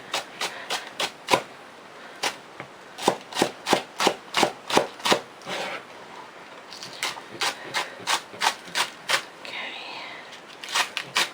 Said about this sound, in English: next we're going to cut off the ends of these spring onions